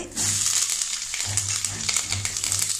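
Mustard seeds, curry leaves and dried red chillies crackle and sizzle steadily in hot oil in a kadai, a dense close spitting hiss that runs throughout over a faint low hum or murmur.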